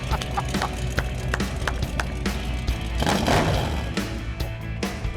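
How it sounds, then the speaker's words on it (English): A 1970 Dodge Charger engine with glass pack mufflers idles close by, a throaty low burble with uneven pulses and a brief rev swelling in the middle. "Those are glass packs"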